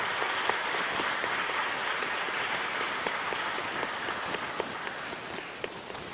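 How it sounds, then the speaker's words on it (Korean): Audience applause at a pastor ordination ceremony, a dense, steady patter of many hands clapping at moderate distance, continuing evenly throughout with no voices over it. "크게 박수해 주십시오."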